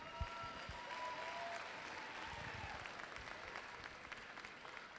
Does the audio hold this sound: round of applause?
yes